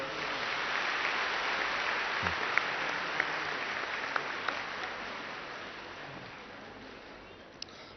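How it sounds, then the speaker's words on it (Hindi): At a 101st birthday celebration, a large gathering claps in a continuous, even roar of applause that tapers gradually toward the end, with no one speaking over it. "जरा ताली बजा लो।"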